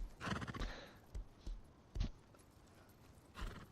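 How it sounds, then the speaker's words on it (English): Horses in the survival video game Rust, several hooves clip-clopping in short bursts with a few neighs and whinnies, fairly close and clear with no talking. "So basically 22 horses on this level."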